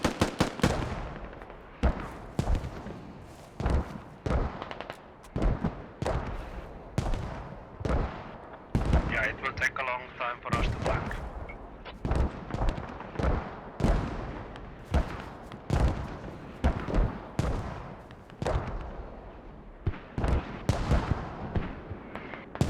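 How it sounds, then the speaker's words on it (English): Mortar fire during a Squad video game tournament match: a dense, continuous barrage of sharp booming impacts and blasts over about twenty seconds, loud and near, with rumbling between hits. "Mortars are hitting deadly accurate right where they need to be."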